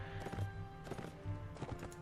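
Horse hooves clip-clop at a walk in the medieval combat game Mount & Blade, a steady repeating rhythm of soft thuds under a constant background hum of game audio and music.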